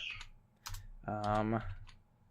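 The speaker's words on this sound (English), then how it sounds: "This is what happens when you use one finger to type." A computer keyboard typed on with one finger gives a few sparse, separate key clicks, quiet and close, with a voice speaking briefly partway through.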